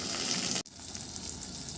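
Chopped tomato hitting hot oil with fried onion for a mutton curry, giving a loud, bright sizzle that breaks off abruptly and then carries on as a steady, slightly softer frying hiss.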